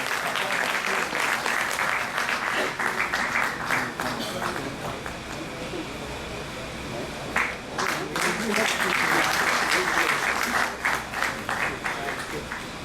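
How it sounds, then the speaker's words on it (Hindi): Sustained applause from an audience welcoming a guest at a Muslim Rashtriya Manch discussion forum, steady dense clapping throughout with a brief dip mid-way, loud and close. "जोरदार तालियों से स्वागत करें।"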